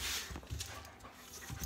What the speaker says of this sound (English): These dogs, nonstop, are chasing her.